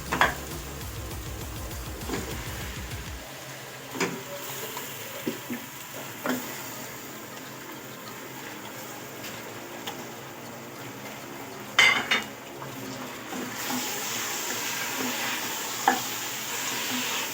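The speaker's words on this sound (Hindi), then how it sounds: "फिर इसमें गोश्त डालूँगी और गोश्त को अच्छे तरीके से भून लेंगे।" Mutton sizzles steadily in a hot pan after garlic and ginger, while a utensil scrapes and clinks against the metal every few seconds as it is stirred, close and fairly quiet.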